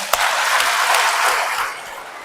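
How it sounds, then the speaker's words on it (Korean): Audience applause during a lecture held in a Catholic parish church, a loud dense roar of clapping that swells quickly and holds evenly before starting to fade toward the end. "단장님들에서 박수 한번 쳐주세요."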